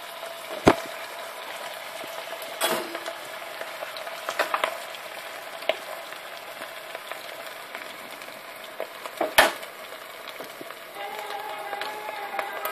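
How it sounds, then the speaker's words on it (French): Oil bubbles and sizzles quietly as meat kibbeh deep-fries, with a few sharp clinks and knocks of utensils against the pot. "Et on les laisse frire."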